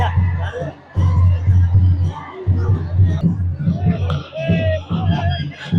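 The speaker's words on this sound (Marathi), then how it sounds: "शिवभक्तांची झालेली गर्दी." A dense crowd of Shivaji devotees mills about at Panhala fort during Shiv Jayanti celebrations, a continuous close murmur of many voices and shuffling, with a nearer voice speaking over it.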